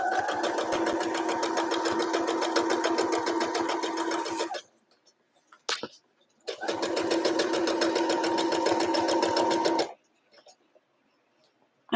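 A sewing machine stitches lace onto a Sunbonnet Sue quilt block with a slow straight stitch, running steadily in two close, loud bursts of about four seconds each, separated by a short pause with a faint click.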